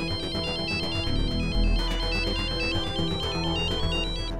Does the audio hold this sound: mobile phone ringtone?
yes